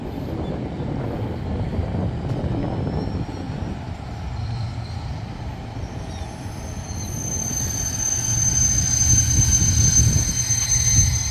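A morning train passes near the Bang Sue diesel railcar depot, rumbling steadily with rail noise and squealing wheels that build toward the end, loud and fairly close.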